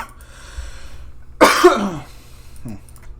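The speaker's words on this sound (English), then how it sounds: "Alright, cough, go away." A single harsh cough bursts out close by, followed a moment later by a short, softer throat-clearing sound.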